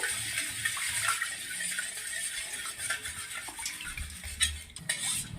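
Sugar being stirred into water for chia seed sharbat, a spoon clinking and scraping faintly against a glass in quick irregular strokes, with no talking.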